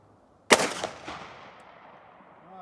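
A single loud, sharp shot from a Smith and Wesson Model 69 Combat Magnum revolver firing hot loads, followed by a long, fading echo outdoors.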